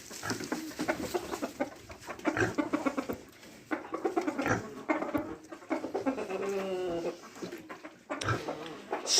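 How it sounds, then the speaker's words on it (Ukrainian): Chickens cluck and murmur steadily outdoors, several birds close by, with scattered louder calls over a busy background. "Кури собі виходять на вулицю потрішки."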